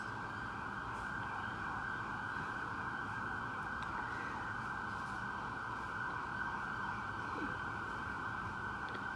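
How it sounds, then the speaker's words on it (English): A steady, loud ambulance siren holds one continuous wailing tone throughout, with traffic rumble underneath and no talking. "it's either an ambulance or a fire truck"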